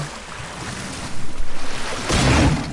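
A character in Ark Survival Evolved wades into water, giving a close, loud rush of splashing and surf-like wash with a rhythmic burst of sloshing, then a heavier splash near the end.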